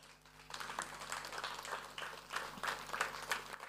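An audience at a seniors' banquet with gospel music bursts into steady applause, dense clapping rising after a quiet start and continuing in uneven waves, moderately distant with no talking over it.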